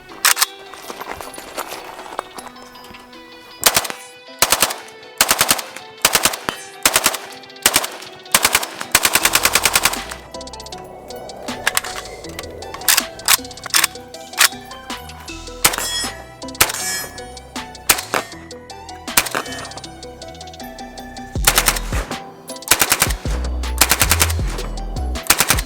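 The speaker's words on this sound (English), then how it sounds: "So this will be a fun gun to shoot on the bipod." An RPK-74M rifle fires from its bipod in loud bursts and single shots, each report sharp and close, separated by short pauses, with metallic clangs in between.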